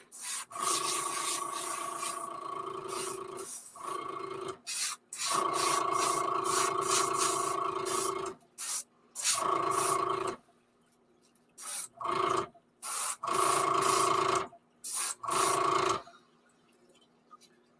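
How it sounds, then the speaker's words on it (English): An airbrush or spray can sprays paint onto an ultralight fishing bait in a series of short and longer hissing bursts with sharp stops and brief pauses between them, close and steady, with no talking. "I'm going to spray it at an angle here so it sort of fades to the back."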